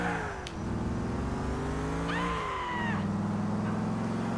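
Car engine revving in Grand Theft Auto 4, a steady loud drone whose pitch shifts up and down, with a brief whining squeal partway through.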